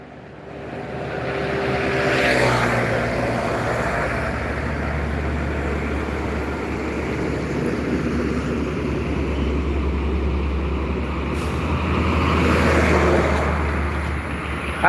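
Trucks pass along a road in a steady rumble of engines and tires, with a low drone throughout and the noise swelling twice as vehicles draw close and move on.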